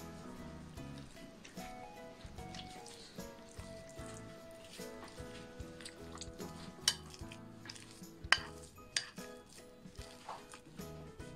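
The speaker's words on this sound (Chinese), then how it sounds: "蒸熟的红薯倒去里边多余的水分，再放入碗中， 加入少许的牛奶，捣成泥" Steamed sweet potato is mashed with a little milk in a bowl, with soft squishy pressing and scraping and occasional sharp clinks of a utensil against the bowl, quiet and close, over light background music.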